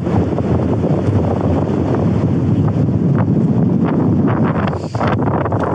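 A fierce gale roars continuously over a pitched Hilleberg Solo tent at an exposed campsite during a wind and snow storm, blowing steadily from the east with loud, unbroken buffeting close to the microphone; no one talks.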